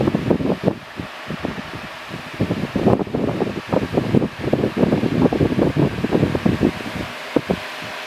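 A National F-NM305 electric desk fan roars on its highest speed setting with a constant airy whoosh and fluttering, rattling pulses from a shaking cage, close and loud, no talking.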